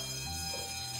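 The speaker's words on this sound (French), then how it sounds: "Arrêtez le système d'alarme." A museum alarm system rings on without a break, a steady electronic bell-like tone filling the whole moment at moderate loudness with no voices over it.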